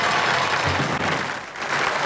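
Television studio audience applauding to welcome a guest onto a game show set, a dense, steady wash of clapping from many hands throughout.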